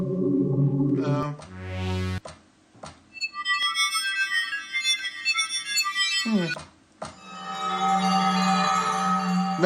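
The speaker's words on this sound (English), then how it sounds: "Maybe a bell?" Bell-like synth samples auditioned on an Akai Force, sustained tonal notes with rising sweeps and bright chiming tones, loud and close, changing abruptly between several sounds with short gaps.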